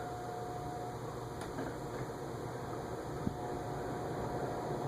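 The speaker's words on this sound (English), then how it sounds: "Once the air starts going, you can hear the hum." A white Fasco World's Fair ceiling fan, model 962, runs in a quiet living room, giving off a faint, steady hum and soft airflow with one tiny click partway through.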